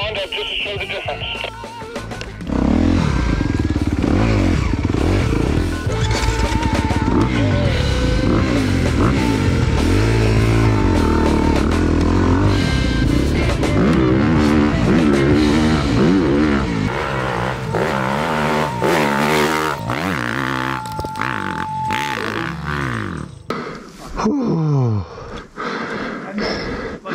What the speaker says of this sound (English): Hey, Mitch, take Chuck's Honda down, and we'll have you ride the Honda just to show the difference.